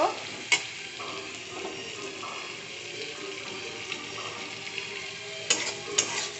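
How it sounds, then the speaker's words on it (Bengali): Onion and chili frying in a pan with rice, a steady low sizzle under stirring, with a few sharp utensil scrapes near the start and toward the end. "এখানে আমি পেঁয়াজ আর মরিচ দিয়ে দিছি তো এটা এখন ভালো করে ভেজে নিব"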